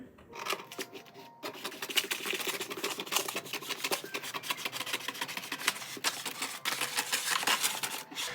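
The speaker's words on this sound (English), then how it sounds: "These scissors kind of suck, so I don't think I'm gonna get that nice glide." Scissors rasp and snip through crinkly paper in a long, continuous scraping cut, close up and fairly quiet.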